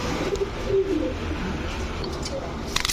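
Female pigeons coo softly among a flock in a pigeon loft, with low murmuring calls, occasional flutters and faint background voices.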